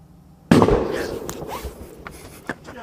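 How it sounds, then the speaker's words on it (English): A single sharp gunshot cracks out in the woods at night beside a camping van, loud and sudden after near-silence, followed by a faint echo and a few scattered thuds. "That's a fucking gunshot!"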